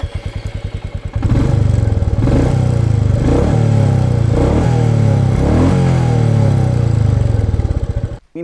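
Royal Enfield Meteor 350 single-cylinder engine cranking, catching and firing up, then loud close blips of revving with a thumping low idle before shutting off.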